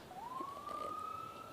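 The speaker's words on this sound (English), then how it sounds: "Now we're starting to hear some sirens." A single faint, distant emergency siren wails on a rising then steady tone over a low street hum, heard outdoors near a burning building during a night of unrest in Ferguson.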